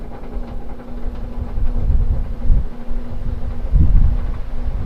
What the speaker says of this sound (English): Actually, it seems like on medium it's shaking less than it was on low. And it's quieter.